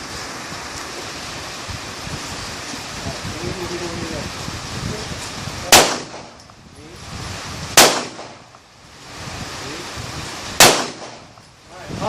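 Three sharp gunshots ring out during shooting training, spaced a couple of seconds apart, loud and close over a steady outdoor wash of background noise, with faint talk beforehand.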